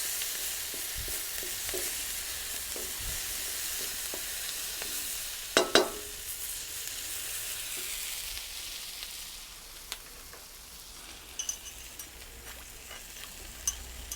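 Curry paste sizzles steadily in a hot pan for a British Indian restaurant-style chicken balti, with a spoon scraping and stirring through it and a couple of sharper knocks midway.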